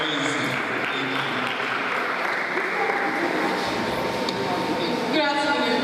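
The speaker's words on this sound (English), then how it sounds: "Please clap." Conference audience at a business summit applauding steadily and densely throughout, a broad sustained clatter of many hands with some voices mixed in, swelling slightly near the end.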